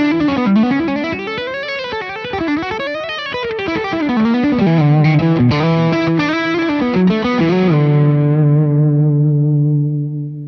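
A smooth but slightly aggressive overdriven electric guitar through a Wampler Dual Fusion pedal on a Fibonacci guitar's bridge pickup, playing a fluid, sliding lead line that ends on a sustained, fading note; loud and alone.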